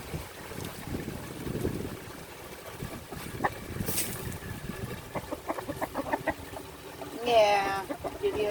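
Backyard chickens clucking around their coop in the wake of a hurricane, a series of short clucks and a rising squawk near the end over wind noise, while a person talks nearby.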